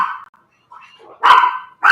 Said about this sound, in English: That's Astro barking.